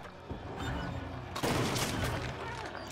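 Gunfire in the video game Little Nightmares 2, a loud dense volley of shots bursting in partway through over a continuous noisy background.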